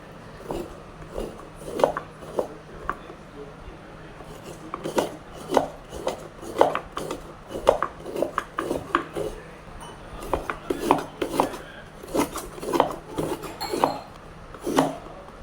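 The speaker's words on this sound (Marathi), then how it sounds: "पहिल्यांदा आपण खोबरं खवलून घेऊया" Fresh coconut being grated by hand for sweet modak filling, a steady run of short scraping strokes repeating in an even rhythm, close and fairly loud, with no talk.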